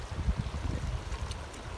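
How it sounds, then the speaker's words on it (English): A tiny mountain stream on Pikes Peak flows in a steady, close, low rushing wash with faint trickling, heard alone without voices. "we're collecting water from this tiny little stream right here"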